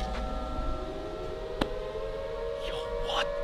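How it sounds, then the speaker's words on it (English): A distant air raid siren wails with a slowly rising and falling tone, steady in the background, with faint voices and a brief sharp knock partway through. "That sounds like an air raid siren."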